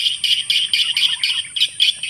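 A looping electronic swiftlet lure call chirps in regular bright pulses at a swiftlet house, with swiftlets present, steady and fairly close with no talk.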